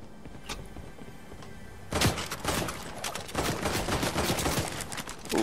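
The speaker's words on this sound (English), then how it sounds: "I really don't like the shooting on the AK" Rapid bursts of AK rifle gunfire in Fortnite: after a quieter stretch with a few isolated shots, a loud sustained volley begins about two seconds in and continues near and dense to the end, with no talk over it.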